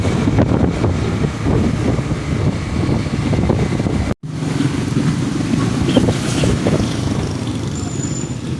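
Strong wind buffets the microphone during a bike ride on a bumpy road near Ternate, producing a constant loud rumbling roar that drops out for an instant midway before resuming.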